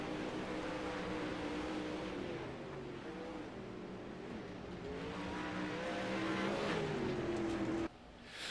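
Several 360 winged sprint cars race around the dirt oval at I-55 Speedway, their engines roaring steadily with rising and falling pitch as they pass, loud and continuous until an abrupt drop near the end.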